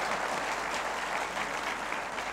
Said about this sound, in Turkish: Onun için siz alkışlayın.